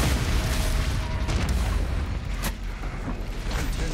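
The BFG 10,000 firing in Doom Eternal, a loud continuous rumbling roar with booming low-end weight and a sharper blast near the middle, sustained throughout.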